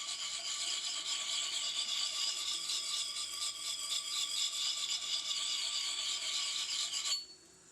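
A steel throwing axe being sharpened on a wet stone or grinder, a continuous high rasping squeal of metal being ground off that runs steadily for several seconds and then cuts out abruptly.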